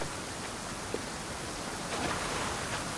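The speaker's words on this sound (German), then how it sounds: "Ah, Wasserfall." Steady broadband rush of a waterfall in Assassin's Creed Odyssey, a constant wash of falling water that swells slightly toward the end, with no talking.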